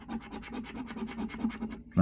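A coin scrapes rapidly across a Pick n Pairs scratch card, a close run of rhythmic rasping strokes about a dozen in a row, ending with a louder bump.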